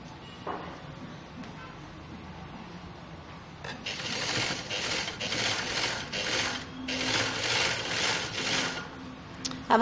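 A sewing machine stitches a straight seam on a baby frock's sleeves, starting after a quiet pause and running in a steady mechanical whir with short rhythmic surges and brief stops.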